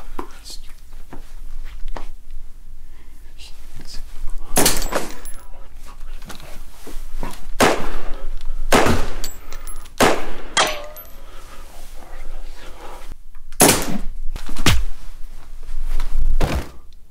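Sharp gunshots ring out in an occult thriller audio drama gunfight, several loud cracks scattered at irregular intervals amid whispered talk and soft foley thuds.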